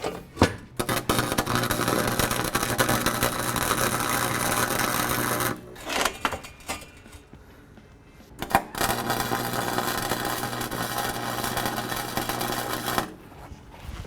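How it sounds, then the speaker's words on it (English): A 120V Harbor Freight welder tack welds a stainless steel V band in two long, loud, buzzing, crackling runs of about five seconds each. A quiet pause with faint handling separates the runs. "There's our 4 tack welds."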